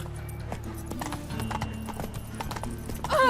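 Roach, the horse in The Witcher 3 video game, gallops with rapid, close clip-clopping hoofbeats, and a brief whinny comes right at the end.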